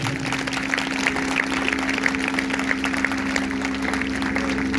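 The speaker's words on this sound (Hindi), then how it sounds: "अगर आई है तो जोरदार तालियां बजाएं।" A church congregation claps during a Sunday sermon, a sustained, dense burst of applause over a steady low electrical hum from the sound system.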